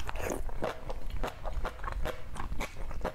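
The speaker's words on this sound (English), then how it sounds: "The way that's crunching, that's vegetables." Loud, close crunching of vegetables being chewed, a steady run of crisp bites and munches repeating about every quarter second with no talking.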